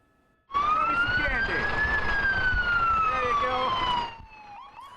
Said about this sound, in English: The sirens heard in Piketon this afternoon were a little less somber today